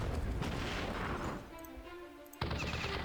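Tank attacks in the video game Battle Nations come through as a dense, rumbling barrage of booming shots that drops briefly before another burst, fairly quiet overall.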